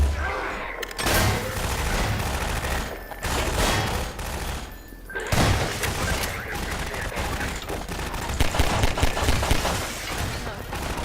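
Gunfire in the video game The Whole Map Vault 044 - Preludes comes in dense, rapid bursts of loud shots and booms, close and overlapping, with short pauses between volleys.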